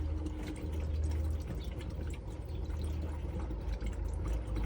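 Water runs steadily from a motorhome tap, a continuous rushing flow with sputtering bursts as air clears from the pipes, moderately loud and close with no voices.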